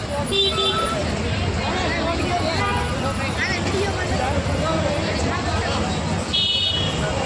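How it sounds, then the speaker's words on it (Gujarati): Busy railway station ambience: a steady wash of crowd chatter and murmuring voices, distant vehicle rumble and occasional tonal beeps or horn-like sounds, continuous and fairly loud throughout. "જો અમે રેલવે સ્ટેશન પહોંચી ગયા છીએ."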